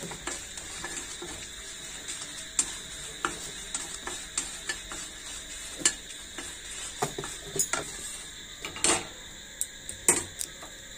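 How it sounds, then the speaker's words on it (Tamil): Dry red chilies and curry leaves roast in a hot kadai, with a soft crackle and scattered clinks and scrapes of stirring at close range. "இந்த வரமிளகாவையும் இந்த கருவேப்பில் இலைகளையும் நம்ம வறுத்து எடுத்துடலாங்க"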